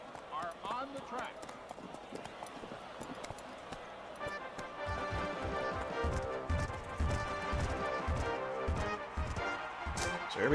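Galloping hooves from the Gallop Racer horse racing video game, a fast rhythmic clip-clop over music that builds midway, with someone talking over it throughout.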